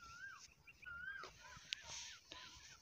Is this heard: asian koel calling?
yes